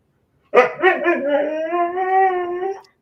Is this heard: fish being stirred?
no